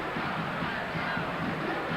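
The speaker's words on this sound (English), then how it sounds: "The Northwestern cheerleaders cheering on their squad" Dense, steady crowd roar fills a college basketball arena during a 1987 Purdue versus Northwestern game, with Northwestern cheerleaders cheering amid the fans, loud and continuous without distinct breaks.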